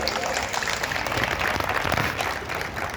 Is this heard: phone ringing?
no